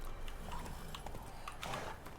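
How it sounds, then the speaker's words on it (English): Roach, the horse in The Witcher 3, trots with steady clip-clopping hoofbeats at a quick even rhythm, close and moderately loud, with no talking. "Where's my horse? Come on, Roach."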